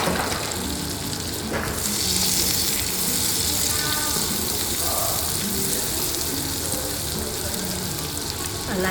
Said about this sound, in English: then we're going to chuck in the garlic. Let that start cooking while the butter is melting.